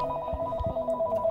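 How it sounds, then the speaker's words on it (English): A telephone rings with a steady repeating electronic warble, close and fairly quiet, a few low thumps beneath it and no talk. "I can't believe the fucking phone is ringing."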